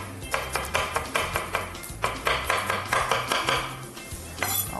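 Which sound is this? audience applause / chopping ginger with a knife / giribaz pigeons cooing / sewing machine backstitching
chopping ginger with a knife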